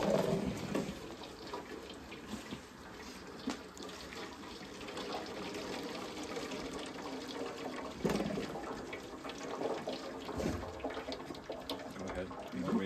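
Hot maple sap pours and trickles steadily through a filter for several seconds, a continuous wet rushing with soft gurgles, while people talk faintly in the background.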